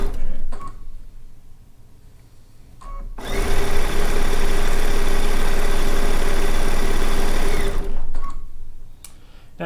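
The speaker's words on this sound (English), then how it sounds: "Now we're going to sew this one down." A sewing machine stitching rows of a quilt runs in one long, loud, steady burst of rapid mechanical whirring for several seconds, with quieter handling noises before and after.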